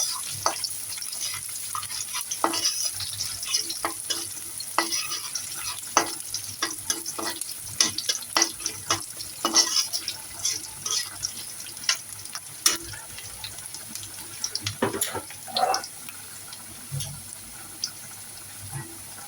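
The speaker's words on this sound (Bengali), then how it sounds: "পেঁয়াজ রসুন গুলোকে আমি ভাজা ভাজা করে নিব।" Onion and garlic frying in oil with bay leaves for a chichinga (snake gourd) curry, a steady close sizzle broken by frequent sharp clicks and scrapes of a spoon stirring in the pan.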